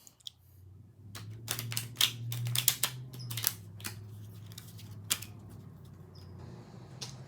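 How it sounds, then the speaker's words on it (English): Cards for a physical board game are shuffled close by, with a flurry of crisp riffling snaps and light slaps in quick bursts, then sparser taps in a quiet room. "the next step is to shuffle the title cards, the territory card, and the world daily"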